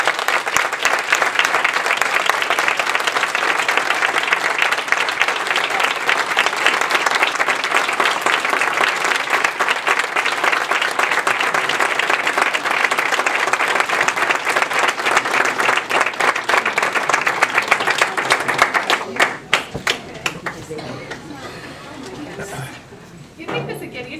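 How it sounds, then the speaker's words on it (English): Sustained, loud applause from an audience honoring a Teacher of the Year, holding steady for most of the stretch before thinning into scattered claps near the end, with some murmuring chatter underneath. "Please join with me in applauding Teresa Sage"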